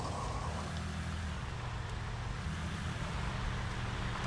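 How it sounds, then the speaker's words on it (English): Car engine rumble in the Notmycar battle royale game, a steady low drone with road and wind noise that holds at an even level throughout, no voices over it. "Sometimes when other cars are coming, you can hear them come."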